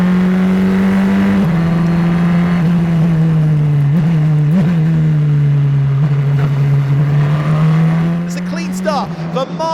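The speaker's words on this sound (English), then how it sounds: "It's all eyes to the lights and foot to the floor as we go racing once again in Austria." F1 Academy race cars accelerating hard at a race restart at Spielberg, Austria: a loud sustained engine drone rising and holding steady, with a commentator talking over it throughout.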